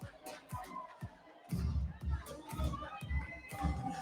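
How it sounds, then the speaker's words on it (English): Indoor crowd cheering and shouting for female athletes at the British Masters Championships, loud and sustained in rhythmic swells with scattered voices over a reverberant hall. "These ladies being cheered on."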